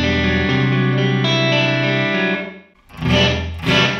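Electric guitar through a Two Notes Torpedo Cab M set to a Hall A reverb, a sustained distorted chord with a washy tail, then two short bursts of strummed noise, loud and alone.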